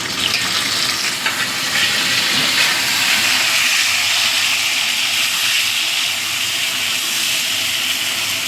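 Tomatoes go into a pan of fried potatoes and the pan gives a loud, steady sizzle and hiss, close and continuous from start to finish, with no talking.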